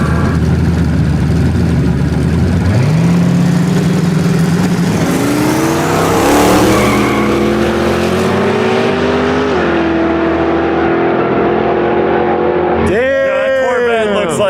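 A 1929 Dodge and a Corvette Z06 drag race heads-up, engines roaring loudly as they climb through the gears. The sound fades as the cars pull away, then a close engine revs sharply at the end.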